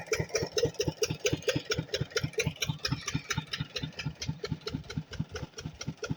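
A diesel engine runs steadily on a farm, used for pumping water while electric motors sit idle. It gives a fast, even, close-up thumping with no voices over it.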